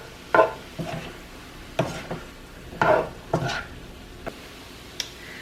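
Shrimp stirred in a hot pan for tacos, a handful of scraping, clattering stir strokes spaced across a few seconds over a faint sizzle, close and fairly quiet.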